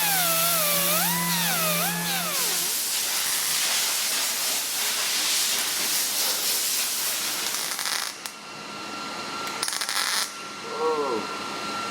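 Seam sealer outgassing as a welder works on the trunk of a 1968 Dodge Charger R/T, a loud, steady hissing spray that drops off and returns in short bursts near the end, with a voice in the background.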